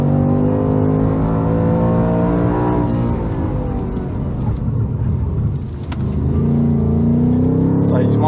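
A Ford Mustang Mach I accelerating on a race track, its V8 engine revving loudly up through rising pitch, dipping briefly at a shift, then climbing again, close and powerful throughout.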